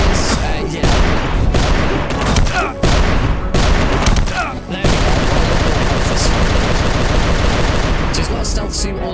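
Gunfire in the video game UnMetal rattles in loud, close bursts and sustained volleys, with booming impacts and a voice speaking over the shooting.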